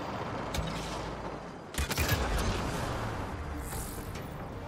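Heavy gunfire in Mass Effect Andromeda, with sharp bursts of shots near the start and a louder rattling volley in the middle over a steady background rumble.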